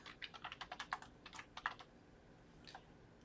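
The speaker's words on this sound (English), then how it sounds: "I'm going to type in Ready Player One." Someone types a book title on a computer keyboard: a quick, faint run of about a dozen keystrokes, a short pause, then a few more taps, with a quiet room behind.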